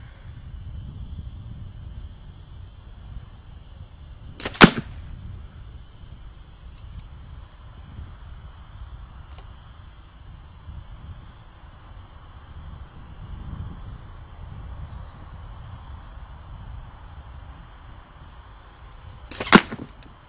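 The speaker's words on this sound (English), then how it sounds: "I'm going to shoot 3 arrows" Victory V1 arrows shot at a paper target from 20 yards, two sharp thwacking impacts several seconds apart over steady outdoor wind noise.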